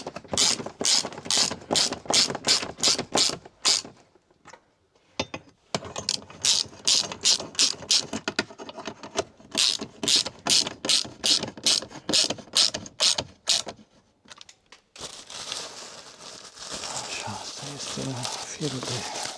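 A ratchet wrench tightens metal brackets while an air conditioner is mounted on a campervan: fast bursts of crisp, close clicking, a pause, then more ratcheting, with some talk and rustling near the end.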